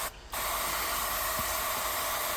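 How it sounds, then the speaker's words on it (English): A garden hose on a misting setting sprays a steady, loud hiss after a brief quiet start, dampening soil and Chinese elm cuttings in a fish tank propagator. "So now I get my hose and put it on a misting setting and just give it a watering stroke mist"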